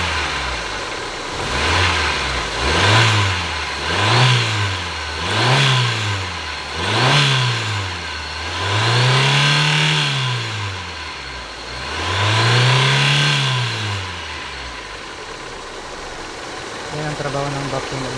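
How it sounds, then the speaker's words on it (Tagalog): A car engine with a vacuum advancer revs repeatedly, rising and falling in about six distinct surges, the later ones longer and more drawn out, loud and close, then settling to idle. "Ayan o, accelerate ko."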